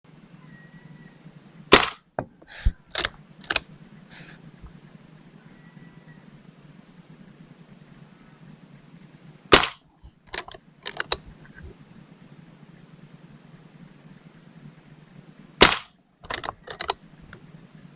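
A Walther lever action CO2 rifle fires in three separate volleys, each a sharp crack followed by a few quick metallic clacks of cycling the lever, with quiet pauses between.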